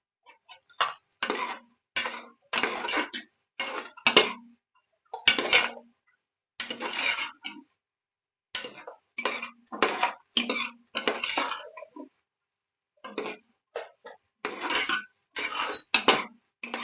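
A ladle scrapes and clinks repeatedly against a pot while ghee rice with carrot, mint and coriander is stirred, in bursts of close metallic scraping with short pauses between strokes.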